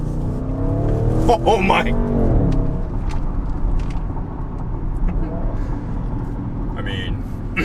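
Car with an aftermarket exhaust baffle revving and driving off, a loud throaty rumble with a brief rising rev early on, then fading as it moves away; a person exclaims over it and talks briefly.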